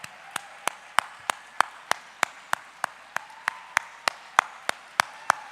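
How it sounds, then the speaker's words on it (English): At a regional Scholastic Art & Writing awards ceremony, the audience claps for students in a slow, unified rhythm, loud evenly spaced beats roughly three per second, continuing steadily with a faint murmur of the crowd underneath. "How about we give our students another big round of applause?"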